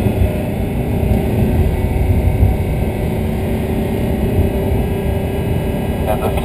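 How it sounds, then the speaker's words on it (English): A 420-horsepower V8 Audi R8 weaves through a wet slalom section of a race track, giving a steady dense engine drone mixed with road and rain noise, with no clear rises or pauses. "the vehicle's driving here are the V8 version of the R8, 420 horsepower"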